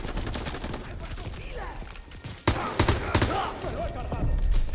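Call of Duty: WWII gameplay on the D-Day landing, with sharp rifle and machine-gun shots cracking over a dense battle din of rumbling explosions and chaos, steady and loud throughout.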